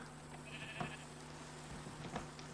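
Sheep bleating in a video game, a couple of short cries standing out over a steady hum of game background sound, with no talking.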